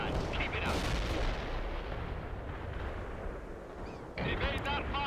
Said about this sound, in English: Heavy barrage commencing